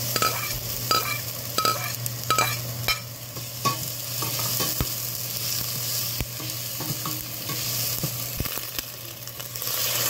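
Onions sizzle in a frying pan during cooking for meatballs with misua, with a steady crackling hiss and repeated scraping clicks from stirring, close and continuous throughout under a low background hum.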